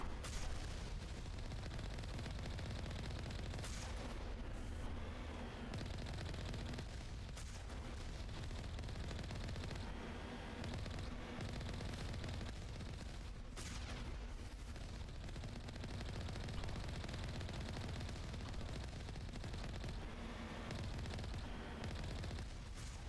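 Several turrets open fire in the Mass Effect video game, with continuous rattling bursts and booming shots layered over a dense, steady battle din, no voices.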